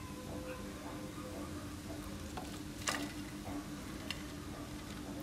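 Spinach and onion bhaji frying in hot oil on a low gas flame, a steady soft sizzle throughout with a few brief clinks and stirring ticks near the pan.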